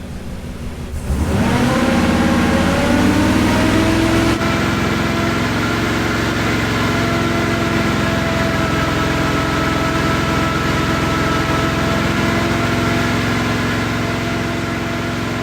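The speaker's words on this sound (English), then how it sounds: "I'm gonna hold it at a higher RPM to see if that changes." An off-road wrecker truck's engine starts up and is then held at a higher RPM with a steady, loud, even drone and harmonic whine, close to the engine, with no speech.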